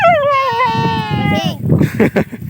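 A dog gives a drawn-out whining howl that slides downward, followed by short sounds mixed with a person speaking nearby.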